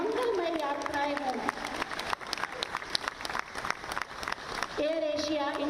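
An audience claps at the inauguration of an Air Asia India flight from Lucknow, a scattered, moderately loud applause running through the middle while a voice sings or chants over the start and end.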